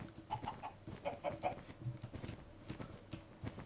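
Minecraft chickens cluck in short bursts over a busy background of game music and effects, with faint voices mixed in.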